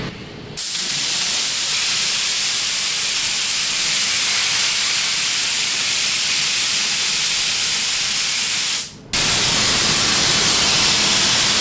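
Exhaust fan of a paint booth built in an old pole barn roaring as a loud, steady broadband rush of air, cutting out briefly near the end before resuming.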